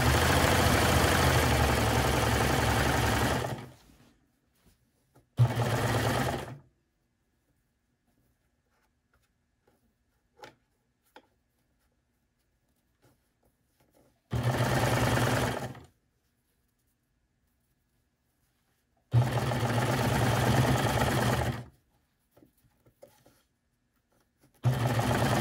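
A sewing machine stitches a lining with elastic and power mesh in the seam, running in loud bursts of several seconds separated by long quiet pauses, with no voices.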